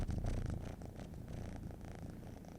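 Pet cat purring up close, a steady, continuous low rumble with a soft rhythmic pulse, quiet and alone.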